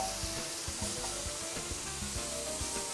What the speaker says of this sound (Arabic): المقلاة هذه أكثر مقلاة نستخدمها في مطبخي ونفضلها، تعطيلي الخطوط